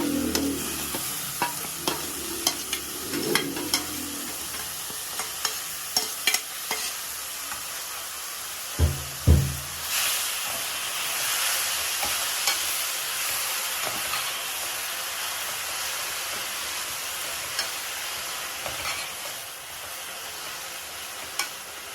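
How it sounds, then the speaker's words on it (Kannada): Boiled greens frying with dried red chillies in a pan, a continuous sizzle and hiss with repeated stirring scrapes and a few sharp knocks near the start and middle. "ಈಗ ನಾನು ಇದಕ್ಕೆ ಒಣಗಿದ ಮೆಣಸಿನ್ಕಾಯಿ ಹಾಕ್ಕೊಂಡು ಫ್ರೈ ಮಾಡ್ಕೊಳ್ತೀನಿ"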